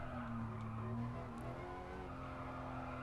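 A Gran Turismo Sport car brakes while turning, its engine droning steadily under a faint tire squeal, fairly quiet, with no talk.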